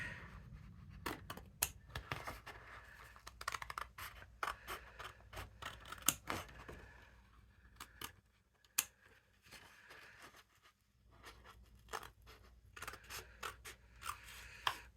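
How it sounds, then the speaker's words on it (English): Scissors snip around a paper card template for a three-step craft card, a steady run of close, crisp cuts with short pauses between bursts, no talking. "now I can just come and cut around and make it a little bit bigger"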